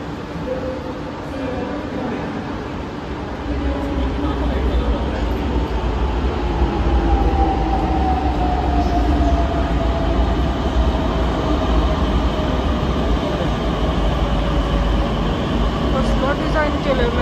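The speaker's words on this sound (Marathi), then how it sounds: "सो दुसऱ्या मेट्रोची वाट बघूया. फायनली आली." A metro train pulls into a station platform, its low steady rumble and rising whine swelling after a few seconds and holding loud and continuous, with faint voices in the background.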